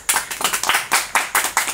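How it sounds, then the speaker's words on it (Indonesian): A small group claps in quick, uneven bursts of sharp individual hand strikes at an election oversight gathering in Lampung Tengah, close by and without talk. "Kasih tepuk tangan dulu dong"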